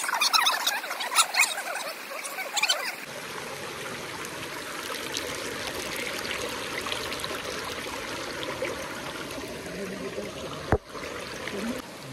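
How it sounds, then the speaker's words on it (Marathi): Water gushes and flows in a steady, full rush out of a basket, continuing unbroken after a brief stretch of quieter sound at the start, on a trek trail to Bhimashankar. "इथं बुट्टातून पाणी काढणं बाहेर चालू आहे"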